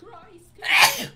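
A single loud sneeze bursts out near the mic at close range, following a brief spoken exclamation, during a playful ghost-hunting session among voice actors.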